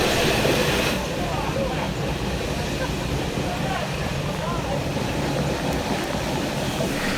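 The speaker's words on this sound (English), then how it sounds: "5917 passes by with the picnic train at Carlton" A passenger train hauled by steam locomotive 5917 rumbles past at Carlton, New South Wales, with a continuous heavy roar and clatter of wheels on rails holding steady from start to finish.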